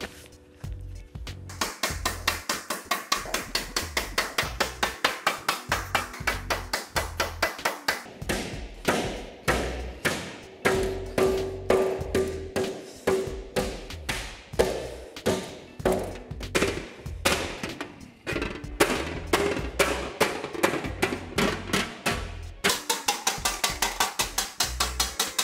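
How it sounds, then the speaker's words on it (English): A blocking hammer beats a metal Sprint guard panel laid on sandbags to stretch up its centre crown, giving a long steady run of sharp, close, rapid thuds with brief pauses and no talking. "use the sandbags and the blocking hammer to get that centre crown up"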